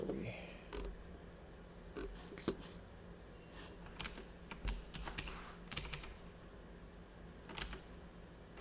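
Computer keyboard typing at a desk, a quiet run of irregular clicky keystrokes with brief bursts and pauses, close and fairly soft, over a faint fan hum.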